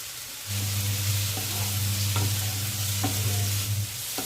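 Onion, tomato, ginger and garlic stir-fry in a pan with chili powder, turmeric and salt for a Bengali boal fish curry: a steady, close oily sizzle with a few soft spatula scrapes, running alone throughout.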